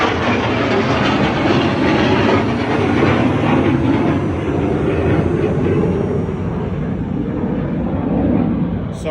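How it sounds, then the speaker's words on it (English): A plane flies overhead outdoors, a loud, steady broadband roar that fills the whole stretch with no speech over it. "There's a plane flying over my head."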